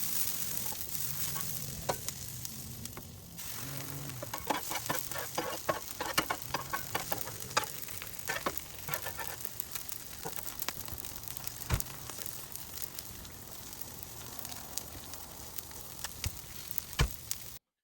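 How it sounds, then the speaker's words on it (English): Grouper fillets sizzle steadily on a Blackstone griddle at a tailgate, with a continuous frying hiss broken by the scrape and clatter of a spatula, close and unaccompanied by speech. "So we're going to get it on the grill and come right back"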